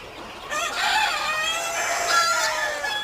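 Farm chickens kept in a cage with quails, clucking and drawn-out crowing calls rising after a quiet first half second and continuing close by, with no talk.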